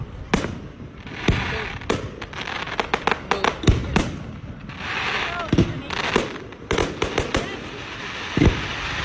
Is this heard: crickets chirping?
no